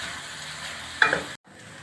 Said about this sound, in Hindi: प्याज़ों को हम गोल्डन ब्राउन करेंगे, ज़्यादा डार्क ब्राउन नहीं करने और ना ही ज़्यादा वाइट रखने हैं।